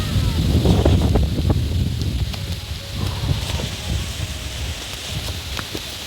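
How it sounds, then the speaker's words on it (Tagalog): Steady gusting wind roars across the microphone on a coast, loud and continuous, with scattered clattering and rustling bursts, as rain begins. "lakas ang hangin."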